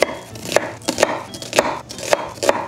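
A knife chops onion with firm, evenly spaced strokes, about six sharp cuts over a few seconds, close and clear, made for finely cut vegetables for a diet fried rice; no one speaks.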